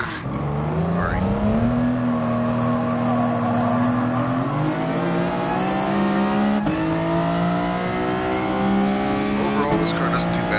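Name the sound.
car engine revving in Gran Turismo video game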